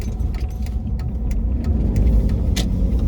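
Engine of a car on a New Zealand restricted-licence driving test near Rangiora, accelerating after a U-turn: a steady, close, low engine rumble heard from inside the cabin, with light rattling on top and no talk.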